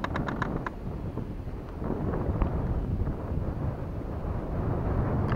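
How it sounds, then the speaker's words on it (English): Wind from hurricane remnants buffeting a microphone outdoors on the water while crappie fishing, a steady low rumbling roar with a few faint clicks near the start, no talk. "That's that wind remnants from the hurricane."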